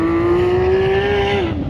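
A Porsche GT3 RS race car engine roars past nearby, a loud sustained high-pitched whine that holds steady then drops in pitch as it moves away.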